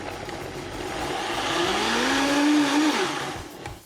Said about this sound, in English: for these next 2 cans, we're gonna blend on high for a minute or so